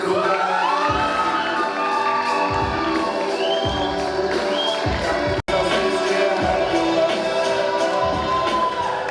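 Audience at a university KVN comedy contest final at Bashkir State University applauds and cheers loudly and continuously, with whoops and shouts over dense clapping; a brief dropout cuts the sound midway.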